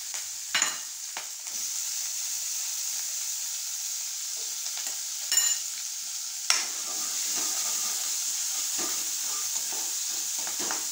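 Finely chopped onions sizzle steadily in a hot pan, a constant frying hiss broken now and then by stirring and scraping sounds.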